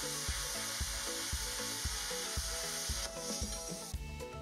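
A Parkside plasma cutter works through 3 mm steel sheet with a close, loud, crackling hiss and regular rhythmic pulses, and there is no talk.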